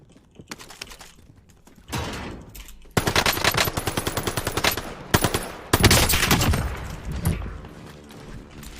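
Rapid automatic gunfire in Warzone Pacific, a Soviet AS-44 rifle firing in dense bursts, loud and close, with sharp single reports between the volleys.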